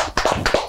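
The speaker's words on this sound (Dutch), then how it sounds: "Applaus voor jezelf" Short burst of clapping for a studio guest on a Dutch talk show, a few hands tapping in a quick, uneven patter, close and fairly loud.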